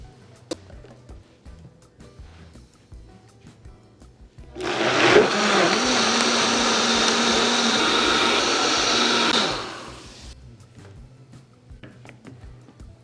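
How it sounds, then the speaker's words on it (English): A blender purees turkey broth with vegetables and turkey wings into a smooth soup, starting abruptly as a loud steady whir that holds for about five seconds and then cuts off, leaving quiet room noise. "We're blending these ingredients with it."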